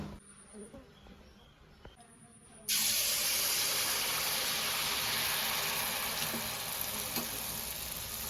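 Malpua batter drops into hot oil in a wok, setting off a sudden loud, steady sizzle and crackle after a few quieter kitchen knocks and clatters.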